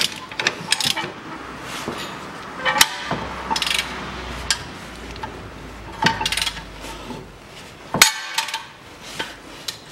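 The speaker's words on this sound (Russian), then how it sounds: "И кручу гайку." A ratchet wrench turns a nut on the outer CV joint of a 2009 Chevrolet Cruze, with close metallic ratchet clicks and clanks arriving in irregular bursts and a sharp clank near the end. No one speaks.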